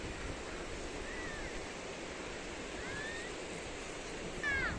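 Sea waves wash onto Digha beach, where people are bathing, in a soft, continuous rushing surf with gentle swells and a little wind. A few faint bird chirps rise above the surf.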